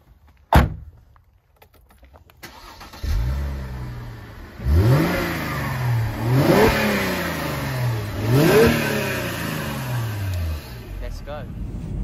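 A Mercedes-Benz SL 350 of the R230 generation pulls away on countryside roads near Epping, its engine rising through several rev sweeps with gear changes in between, heard from inside the cabin after a door thud, with someone talking over it.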